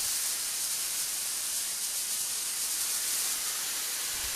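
Steam hisses loudly and continuously from a train locomotive, a bright, even white-noise rush with no pauses.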